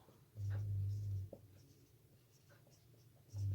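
A pen scratches numbers by hand in short strokes, faint and close, during a Class 8 maths lesson on linear equations, with low thumps and quiet gaps between strokes.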